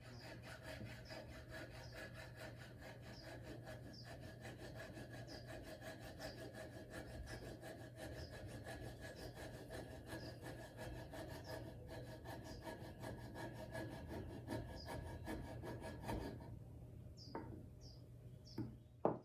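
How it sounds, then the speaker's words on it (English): A coping saw cutting wood for a lap joint, heard as quiet, rapid, rhythmic rasping strokes that continue steadily and close, then stop, followed by a few faint knocks near the end. "After you've cut away the material with the coping saw"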